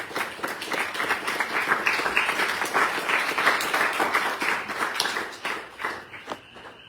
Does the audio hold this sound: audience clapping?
yes